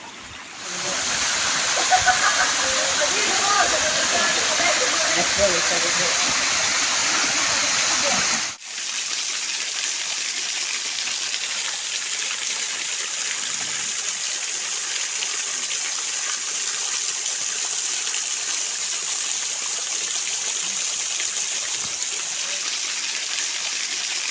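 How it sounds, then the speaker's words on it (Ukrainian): The Kosmyryn waterfall rushes in a loud, continuous roar of falling water, with an abrupt shift partway through to a softer, hissier wash that carries on steadily. "Космиринський водоспад е, цікава пам'ятка природи і доволі класний він літом."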